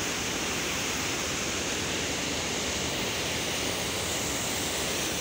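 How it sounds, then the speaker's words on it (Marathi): Water pours down a waterfall in a loud, unbroken roar, close and constant throughout, with nothing else audible over it. "बड बड बड पाण्याचा आवाज आहे."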